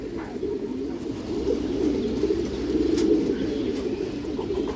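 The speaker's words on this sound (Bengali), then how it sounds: "এগুলো রোড মাস্টার কবুতর দর্শক" Road Master pigeons coo in a low, steady murmur close by, several birds overlapping in soft rolling calls with a few faint chirps and no talking.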